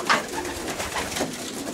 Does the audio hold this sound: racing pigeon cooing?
yes